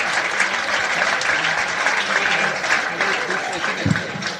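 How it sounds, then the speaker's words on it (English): An audience claps steadily, a dense, even burst of applause lasting a few seconds, with some voices mixed in. "Ladies and gentlemen, having a nice round of applause"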